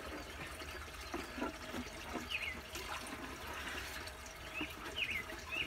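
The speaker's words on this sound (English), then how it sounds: "Now I'm gonna go ahead and flow the water through it" Water poured from a bucket soaks through the soil of a planted iris bed beside a turtle pond, a steady wet trickling and gurgling with faint splashes, close and moderately quiet with no talking.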